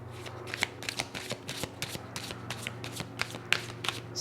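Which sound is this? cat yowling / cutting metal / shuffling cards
shuffling cards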